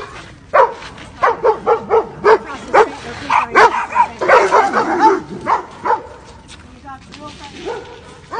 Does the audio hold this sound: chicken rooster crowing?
no